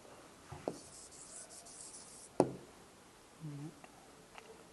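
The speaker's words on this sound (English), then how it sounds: "Let us write the answer statement." A pen writing an answer statement on paper during a maths lesson on decimals: faint scratches and a couple of sharp taps, quiet and close, with no talk.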